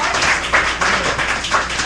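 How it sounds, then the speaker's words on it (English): An audience at a spoken word event gives Papa Chris a round of applause, a steady wash of many hands clapping that fills the room with no break. "can we get a round of applause for Papa Chris?"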